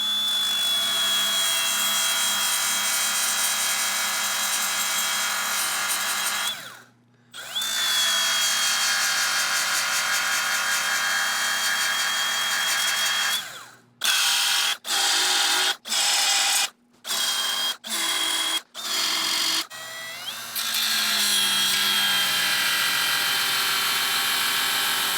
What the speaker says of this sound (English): watch me grind out a crap ton of spot welds on this end plate to start